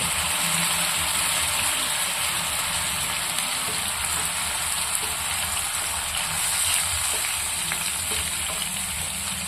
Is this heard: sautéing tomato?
yes